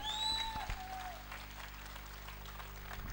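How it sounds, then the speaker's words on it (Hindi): Applause from an audience at a Hindi public talk with a film actor in his home town, a steady wash of clapping hands at moderate level across the stretch, with a brief whistle-like tone near the start. "आप लोग एक बार जोरदार ताली बजा के समर्थन करें आप"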